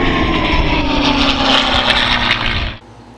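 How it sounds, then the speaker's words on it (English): A loud air compressor runs steadily with a dense, even drone, then cuts off abruptly near the end, leaving only faint room tone. "Shut up, compressor."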